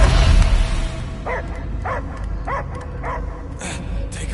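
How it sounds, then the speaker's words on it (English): A dog in the Guardians of the Galaxy video game gives four or five evenly spaced yelping barks over a rumbling game backdrop, each bark short and moderately close. "I hear only barking"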